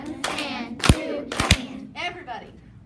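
A classroom of students claps an eighth-note rhythm together, producing a few loud, ragged group claps close by, with children's voices around them.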